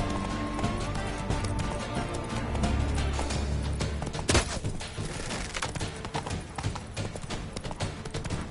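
Rhythmic hoofbeats of a horse galloping in The Witcher 3 Blood and Wine, steady clip-clop under game music and ambience, with a sharp thump partway through.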